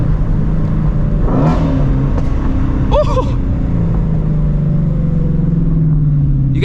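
Ford Mustang Shelby GT350 engine accelerating on the road, a loud close rumbling drone climbing steadily in pitch, with a brief exclamation from a voice in the cabin.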